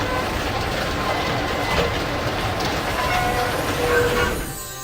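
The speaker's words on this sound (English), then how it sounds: "It's a subway." Subway train in the Zork Grand Inquisitor video game: a loud, steady rumble of a moving train with metallic rattling and faint squeals throughout, easing off slightly at the end.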